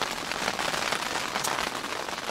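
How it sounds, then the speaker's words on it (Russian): Steady rain falls in Kazakhstan, a dense, even hiss of drops on surfaces that stays close and fairly loud for the whole stretch, with no voices. "Наконец-то дождик до нас дошел."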